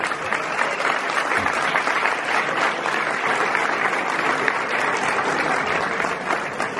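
Steady, loud audience applause for a singer at Sala Galileo, a dense wash of many hands clapping that holds evenly for several seconds with no break.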